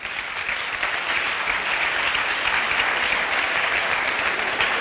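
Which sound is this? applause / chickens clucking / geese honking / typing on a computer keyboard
applause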